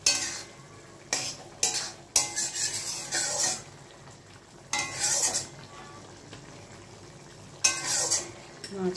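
Fried tangra fish tipped into a pan and stirred with a metal spatula, giving repeated scraping clanks against the pan in short bursts over a faint background sizzle.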